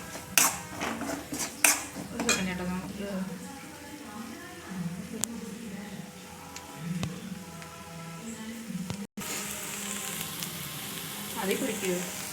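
Turmeric and pepper powder sauté in a pan for prawn biryani, a continuous crackling sizzle with spoon scrapes and knocks. A voice murmurs faintly underneath, and the sizzle turns briefly brighter after a short break.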